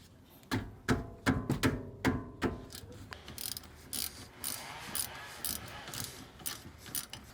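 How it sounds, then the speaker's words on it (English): Sharp ratcheting clicks come in quick bursts as a 13mm socket ratchet works a rear brake caliper bolt loose on a BMW F10 M5, close and clear with a rhythmic pattern. "use a 13mm socket to remove the caliper bolt"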